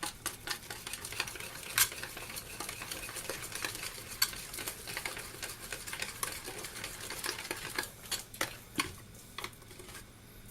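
A butterscotch pudding mixture with butter is stirred in a pan, a soft continuous scraping and swishing with occasional sharper utensil clinks against the side, fairly quiet and close with no talking.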